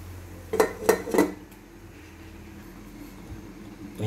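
A metal lid clatters onto a cooking pot of paksiw, three quick clanks close together and near, followed by quiet kitchen background.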